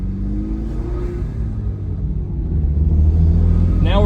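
A lifted 6th-gen Camaro on 33-inch Rough Country tires, with its alignment off, drives on a road as the engine rumbles steadily and then revs louder near the end.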